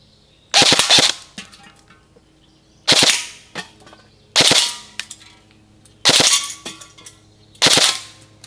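Umarex AER 16 air gun firing full auto at a paper target, five sharp rapid bursts spaced a second or two apart, loud and close with brief metallic rattles between them.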